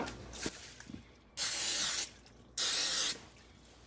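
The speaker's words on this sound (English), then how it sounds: "I am going to use some nonstick spray in the bottom" Two quick hissing blasts of nonstick cooking spray from an aerosol can into a pan bottom, close up, with light clinks and handling sounds before and between them.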